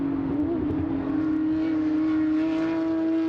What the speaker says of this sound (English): There's not a lot of sounds that are better than a flat 6 screaming.